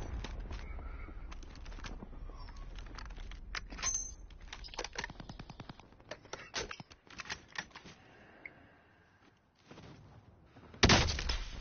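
Rapid bursts of AK rifle fire in Call of Duty Warzone, sharp clustered shots crackling at a moderate distance, with a louder burst near the end.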